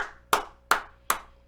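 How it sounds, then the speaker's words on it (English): Four sharp, evenly spaced hand claps ring out close by at a slow, deliberate pace, each one decaying briefly before the next, as a crowd is urged to give a round of applause. "Let's give him a round of applause, y'all."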